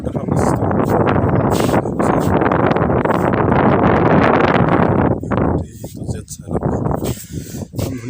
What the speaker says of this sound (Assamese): একদম ধুনীয়া বতাহ মাৰি আছে ইয়াত